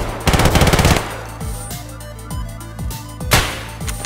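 Loud, close burst of rapid automatic gunfire in the shooter game Escape from Tarkov, followed by scattered single shots and a second sharp volley near the end.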